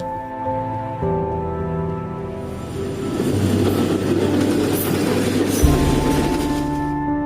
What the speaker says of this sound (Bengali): দুই সীমান্তের মাঝখান দিয়ে চলে যাচ্ছে ট্রেন